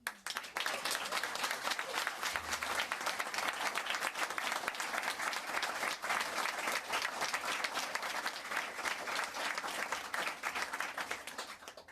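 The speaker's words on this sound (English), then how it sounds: "I want to give a big round of applause to every single activist that chose to show up and be here today." Sustained, dense applause from an audience at a government announcement event for an action plan, steady and loud throughout without pause, with no speech over it.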